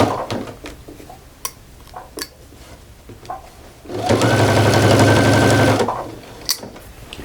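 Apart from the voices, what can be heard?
sewing machine sewing binding onto a quilt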